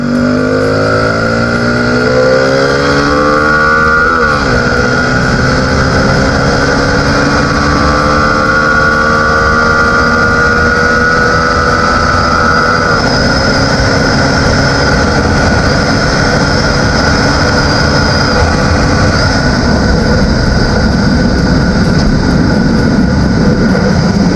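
A motorcycle fitted with a Chan Speed exhaust and modified cam revs hard and accelerates through rising gear pulls, loud and close throughout with a raspy, continuous engine roar and no talking.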